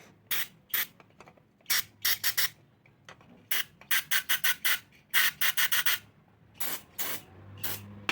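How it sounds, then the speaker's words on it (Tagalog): Aerosol cleaner sprays into the holes of a Honda Click 125 scooter's throttle body in short, sharp hissing bursts, close up, often fired in rapid clusters of three or four with brief pauses between. "Spray pala natin doon sa bandang mga butas-butas."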